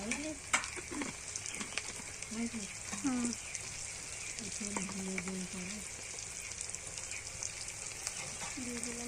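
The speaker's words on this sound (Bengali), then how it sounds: "পেঁয়াজ রসুনগুলো ভেজে নেব এবার দিয়ে দিলাম টমেটো কুচি দিয়ে দিলাম" Onion, garlic and chopped tomato frying in a pan, a steady sizzle with a few stirring scrapes, while a voice speaks intermittently over the cooking.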